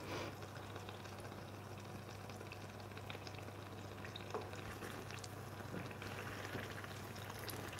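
Panzerotti from Puglia deep-frying in hot oil in a home kitchen, a steady, even sizzle and bubbling that holds close and continuous, with a low constant hum beneath and no voices.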